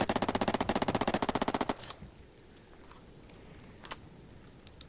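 A rifle in the VR game Epicenter fires a fast, loud burst in full auto for under two seconds, then stops abruptly, followed by faint handling clicks.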